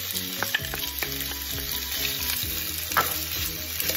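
Shrimp and ginger frying in oil over high heat, a loud continuous close sizzle with stirring scrapes and clatter throughout, no voices.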